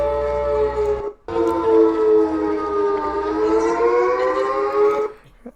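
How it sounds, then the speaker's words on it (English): A tsunami alert siren in Chile wails in a long, eerie sustained tone, cutting out once briefly before resuming and slowly bending in pitch, then ending abruptly. "It's kind of like air raid sirens or something."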